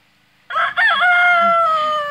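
Rooster on a goat homestead crowing once, loud and close, a single drawn-out cock-a-doodle-doo after a moment of quiet, with faint farm background.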